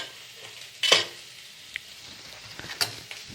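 Onions fry with ginger-garlic paste for beef biryani, a soft sizzle under a sharp stir or spoon scrape near the start and a few lighter scrapes later, otherwise quiet.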